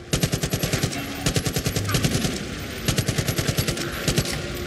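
Rapid automatic gunfire in the Far Cry 5 zombies DLC, repeated loud bursts of rhythmic shots separated by short pauses, with game background sound underneath.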